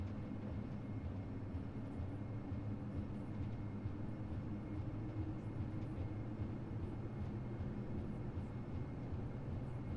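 Dash Q400 turboprop simulated in Prepar3D during its takeoff roll, a steady, loud low engine and propeller drone with broadband roar holding evenly throughout and no speech.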